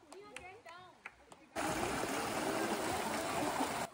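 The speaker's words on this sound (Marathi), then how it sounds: "तर असा आहे हा कोल क्रीक फॉल्स." Creek water rushing steadily near Coal Creek Falls in Washington, a broad loud flow that starts abruptly after someone speaks briefly at first.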